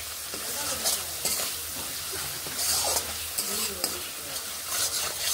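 Spices with a pinch of turmeric sizzle steadily in a hot pan for a vegetable dal, with repeated scraping stirs of a spoon over the continuous frying hiss.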